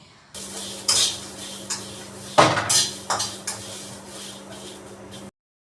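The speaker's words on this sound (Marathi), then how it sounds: "तिसऱ्या गॅस स्टोववरती ही जी उसळ आहे ती मी बनवत आहे" Usal cooks in a pan on a gas stove, with a soft sizzle under several loud clanks and scrapes of a spoon stirring against the pan, close up, before the sound cuts to silence.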